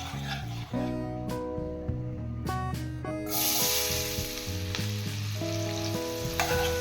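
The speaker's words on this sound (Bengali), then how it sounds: "এবার গোটা জিরে 30 সেকেন্ড ভেজে নিয়ে এর মধ্যে দিয়ে দেবো 1/2 কাপ পেঁয়াজ কুচি।" Chopped onion goes into hot oil and butter with whole cumin seeds for paneer bhurji. A steady close sizzle suddenly swells into a louder, hissing fry, with background music playing throughout.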